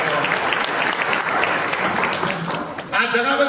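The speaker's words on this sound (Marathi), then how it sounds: "याबद्दल जोरदार टाळ्यांचा कडकडाट झाला पाहिजे" A crowd at a public Shivaji Jayanti lecture breaks into loud, dense clapping that fills the hall, then fades as a voice begins speaking.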